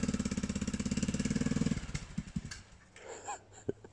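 An off-road vehicle engine revs high with a rapid pulsing rhythm, then cuts off abruptly midway, leaving scattered clunks and faint noises.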